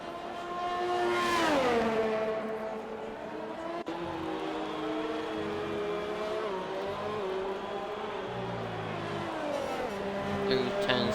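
Haas Formula 1 car engine on a lap in an F1 racing game at the Russia circuit, a loud screaming whine swooping down through braking then holding high revs, dipping and rising through turns, with a light tyre squeal.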